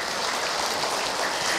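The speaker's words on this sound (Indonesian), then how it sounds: "Tepuk tangan" A crowd applauding at an Islamic women's study gathering in Tangerang: steady, close, dense clapping that goes on evenly from start to end.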